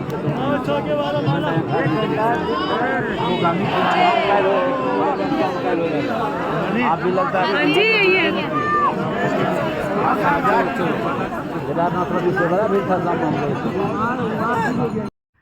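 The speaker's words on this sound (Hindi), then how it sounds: "बहुत ज़्यादा भीड़ थी गाइस, बहुत ज़्यादा" Large crowd of pilgrims at Badrinath temple chattering all at once, a dense, steady babble of many overlapping voices close around, continuous for the whole stretch.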